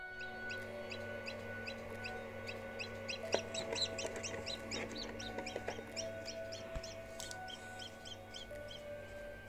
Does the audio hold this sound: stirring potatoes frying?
no